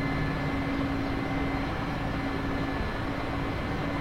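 Helicopter accelerating for takeoff heard from the cockpit, a steady broadband engine and rotor roar with a faint tonal whine, constant and loud throughout with no talking.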